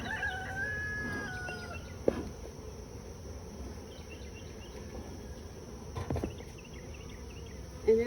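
A honey bee swarm makes a faint, low, steady hum in the open outdoors, with a rooster crowing and birds calling in the background and a few soft knocks.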